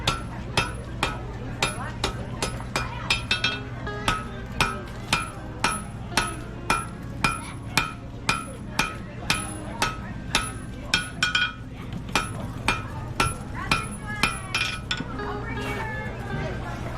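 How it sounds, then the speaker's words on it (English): Blacksmith hammer striking steel heated to about 1800 degrees at a demonstration forge in Silver Dollar City, Branson, Missouri: steady ringing blows roughly every half second, loud and close, with a low hum beneath and talk in places. "when I hammer it flat, the steel stretches this way"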